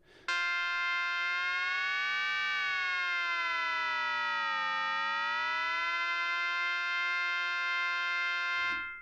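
An FM synth tone from the BLEASS Omega iOS app is fine-tuned, so its bright, buzzy harmonics swoop and bend in pitch, beat against each other, then settle into a steady, loud sustained drone before cutting off.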